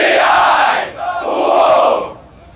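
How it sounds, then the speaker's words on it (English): An AI-generated crowd chants loudly in two sustained surges, a dense mass of voices swelling, dipping briefly, then rising again before fading. "we should have our crowd chanting."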